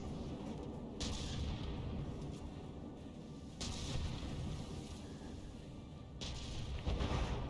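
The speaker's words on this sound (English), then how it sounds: "the Frigate-inator's main gun" Main gun of the Frigate-inator warship firing in From The Depths, three heavy booming shots at regular intervals over a constant low rumble of engines and battle noise.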